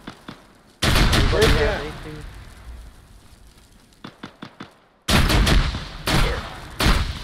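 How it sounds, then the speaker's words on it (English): Bursts of automatic gunfire in the military shooter ARMA 3, loud volleys at the start and end with a few sharper single cracks between, while a player's voice speaks briefly amid the firing. "I don't see what's shooting at us."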